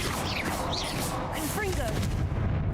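Explosive Confringo spell blasts from Hogwarts Legacy, a burst of dense, booming crackle with whooshing sweeps mixed with game effects and a voice.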